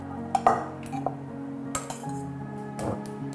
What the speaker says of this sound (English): I'm gonna take it out, put it into the pan, and then mix with the sauce